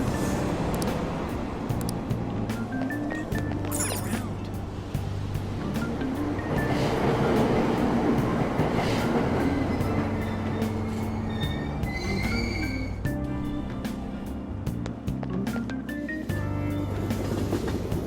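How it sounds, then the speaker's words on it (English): Subway train departing a platform in the Persona 5 Royal video game: a continuous rumble of rolling wheels with squealing metallic tones and whining motor pitches rising and falling, moderately loud throughout. "Platform number 2, service to Asakusa is departing soon."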